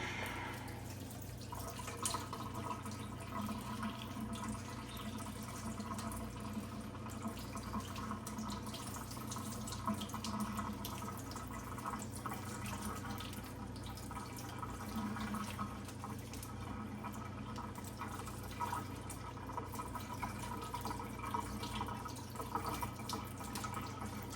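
Water runs steadily from a tap over frozen Cornish hens to thaw them, a continuous faint splashing stream over a low background hum.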